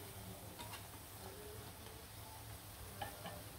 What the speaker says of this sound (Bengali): যে অনেক লাল লাল করে পেঁয়াজগুলা ভাজবো।